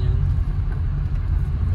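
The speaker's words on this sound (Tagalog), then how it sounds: "Tricycle ni Candy yan oh." A motorized tricycle rumbles past on a rural road, its low engine drone steady and fairly close for a brief moment.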